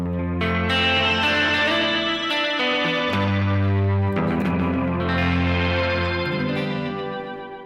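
Sustained electric guitar chords ring out through a Canyon Delay modulating delay pedal, wavering and overlapping as each chord changes, loud and close with no voices.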